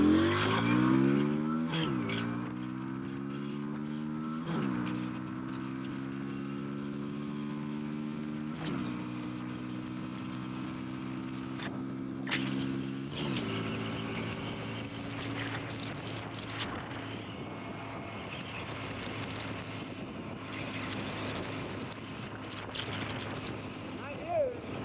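A 2010 Yamaha V Star 250 motorcycle accelerates, its engine note climbing steadily, dropping briefly at each of several gear shifts, then holding a steadier drone at speed.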